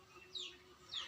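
Two short bird calls from a chicken that is being treated for illness, each a brief bright note over a low steady background hum, fairly faint.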